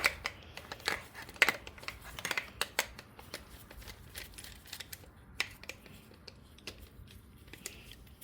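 A metal oil filter from a broken-down Hyundai being cut open, with a quick run of sharp metallic snips and clicks, denser at first, then sparser and fainter, close by and with no talking.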